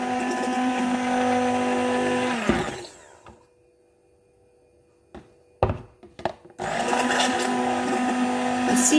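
A blender whirs loudly and steadily while oil is added for mayonnaise, stops briefly with a few clunks and knocks, then starts up again at full speed.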